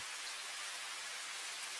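Steady rain ambience plays under a tabletop role-playing game, an even, soft, hissing patter of constant intensity with no voices.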